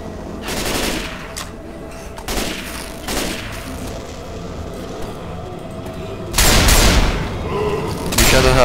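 Heavy gunfire from Left 4 Dead 2, with loud shotgun-like blasts repeating in bursts, the last two near the end being the loudest, over a constant busy game background.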